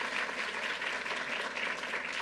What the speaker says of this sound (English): Let's give a round of applause to Assemblymember Rosenthal.